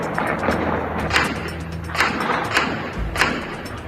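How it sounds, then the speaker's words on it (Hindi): Celebratory fireworks set off by Taliban fighters in Kabul, Afghanistan, heard as a series of dull thumps and pops at uneven intervals over a continuous background rumble, with no talking. "ऐसे में बरादर ब्रिगेड ने जमकर आतिशबाजी भी की।"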